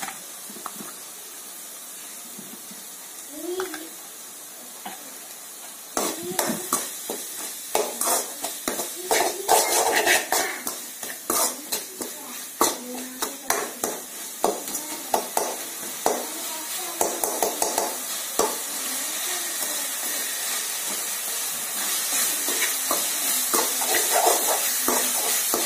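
Bitter gourd and other ingredients for a tamarind curry frying in a pan, with repeated scraping stirs and clinks of a spoon against the pan over a steady sizzle, close and fairly loud, with no talking.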